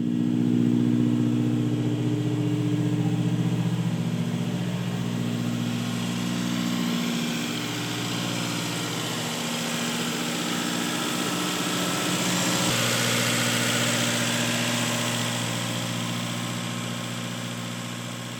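A Subaru FB20/FB25 engine idles steadily just after startup, a close, constant hum with a smooth even drone and slight swelling, running alone with no talk.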